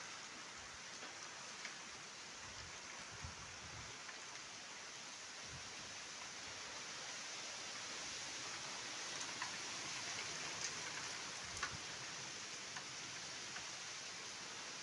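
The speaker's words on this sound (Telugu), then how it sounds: "ఇప్పుడు గాలి తగ్గింది, నిలబడి వర్షం కురుస్తుంది" Steady rain falls after the wind drops, making a soft, even, continuous hiss with occasional faint nearby drips and patters.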